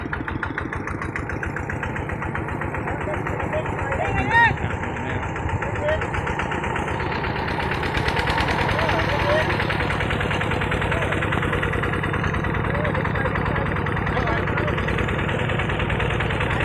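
An engine-driven water pump drains a backyard fish pond, its steady droning rumble running continuously at close range while people talk over it.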